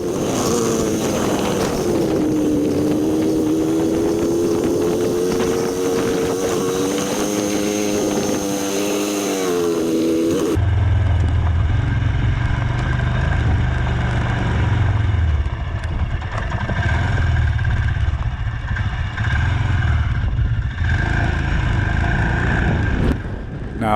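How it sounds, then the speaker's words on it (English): A droning motorcycle engine, sounding like an old two-stroke, runs steadily with wind rushing past on Saline Valley Road; earlier, a higher buzzing engine note wavers before cutting to the lower rumble. "it even sounds like the old 2-stroke engines back in the day"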